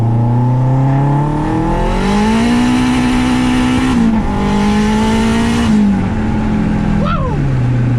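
A 500HP turbocharged K24 car accelerates hard in third gear on the street, its engine note climbing loud and close, dipping at the shift, with a brief tire chirp near the end.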